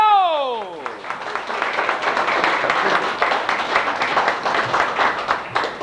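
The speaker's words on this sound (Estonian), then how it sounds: "Armsale pruutneitsile Eevale maruline aplaus!" A festive Christmas gathering breaks into applause for a bridesmaid, with dense clapping from several people held for several seconds after a short falling vocal whoop.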